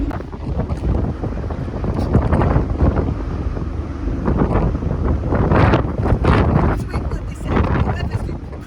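Strong gusts buffet the microphone on the deck of a Dieppe to Newhaven ferry, a loud rumbling roar rising and falling in waves, with voices faintly mixed in.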